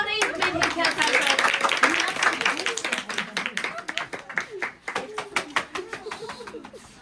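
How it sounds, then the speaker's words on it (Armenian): An audience claps for a storyteller at an Armenian book celebration event, a burst of many hands applauding that builds, then thins into scattered claps; a voice talks over part of it. "ծափահարենք մեր հեքիաթակը։"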